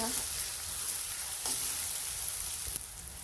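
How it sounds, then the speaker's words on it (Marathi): Ground garlic and green chilli paste sautéing in a pan with onion and tomato, a constant close sizzle with a few scraping stirs and a sharp clack near the end, no talking. "लसूण हिरवी मिरची वाटून घेतली बारीक मिक्सरमधून, परतून घेऊ."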